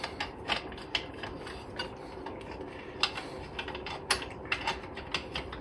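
A nut is screwed down onto a flange to hold a tool in place, giving a series of small metallic clicks and ratcheting ticks at an uneven pace, close and fairly quiet.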